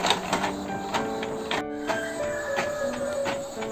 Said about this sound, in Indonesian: Laporan ujian tengah semesternya sedang proses di print.